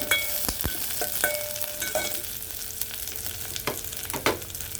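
Mustard seeds, onion, curry leaves and slit green chillies fry in hot oil for a light masala curry, a steady close sizzle broken by sharp pops and crackles of the seeds and a few clinks of stirring.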